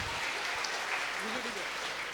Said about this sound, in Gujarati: જોરદાર તાળીઓ પાડી એમના માટે એકવાર.